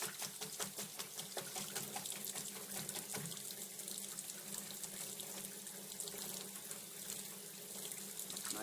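Running water rinses red paint from a paint brush in a steady, quiet splashing flow, with faint gurgles and no voices.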